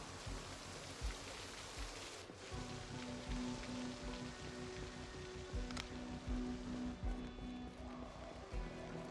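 Steady, even patter of rain in the Build 42 game world, a broad hiss running throughout with faint low tones and occasional small knocks mixed in.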